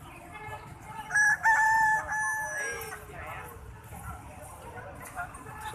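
A rooster crows once, loud and drawn out, at a busy bird market, standing out over steady chatter and the calls of caged songbirds.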